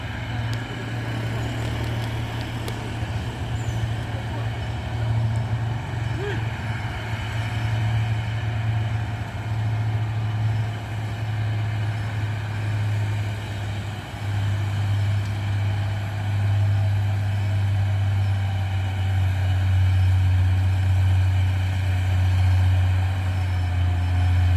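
Heavy orange truck climbing a steep hill road, its deep diesel engine droning steadily and loudly at low pitch for a long stretch, close by, with no talking.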